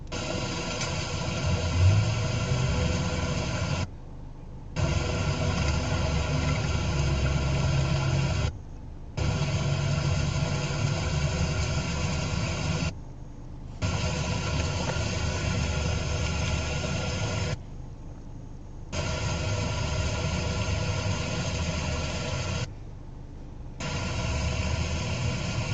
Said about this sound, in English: There's a car stuck in the mud.